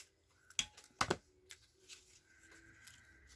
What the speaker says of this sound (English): I'm going to cut that little bit off